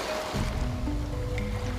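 Running water near a bridge on a dark evening, a continuous low rushing flow with a faint trickling texture, steady and fairly close, with no voices.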